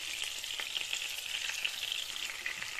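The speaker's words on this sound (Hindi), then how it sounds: "ऑयल हो चुका है हमारा गरम, इसमें हम ऐड करने जा रहे हैं अब अपने कबाब" Peshawari chapli kebabs frying in hot oil over medium heat, a continuous close sizzle with fine crackling that stays even from start to finish, with no talking.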